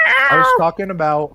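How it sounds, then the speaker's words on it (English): A house cat meows loudly and close in drawn-out, wavering cries that blend with a person talking nearby. "that's just my cat."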